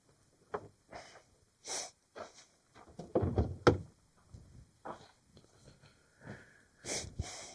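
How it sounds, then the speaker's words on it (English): A run of quiet, repeated sniffles and short nasal breaths from a cold, close by outdoors in cold weather, with a few soft knocks and rustles between them. "I apologize up front for the sniffling"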